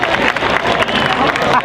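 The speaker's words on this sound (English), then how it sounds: "Give him a round of applause." Audience at a cosplay contest during an Orlando Japan festival applauds and murmurs, a short burst of clapping mixed with crowd noise and some voices, fairly loud and close.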